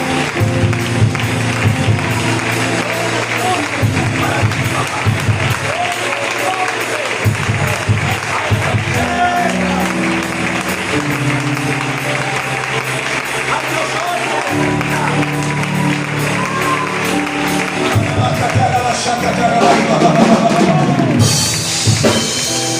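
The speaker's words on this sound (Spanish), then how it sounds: "Aplauden un minutito, por favor, que es para él." A church congregation claps in steady rhythm over music during worship, loud and sustained, with voices mixed in.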